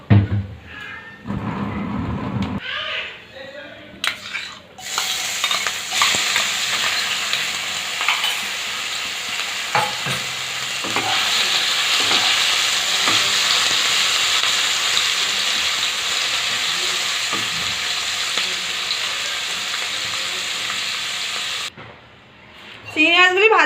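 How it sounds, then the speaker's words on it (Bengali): Prawns fry in white oil in a hot wok (kadai), a loud sustained sizzle and hiss with occasional stirring clatter, starting and ending with brief handling noises. "এবার চিংড়ি মাছগুলিকে ভেজে নেব"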